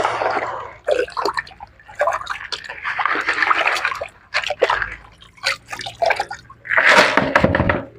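Water sloshing and splashing in bursts as pap grains are shaken and rinsed by hand in a final wash, with drips and pours between, close and fairly loud.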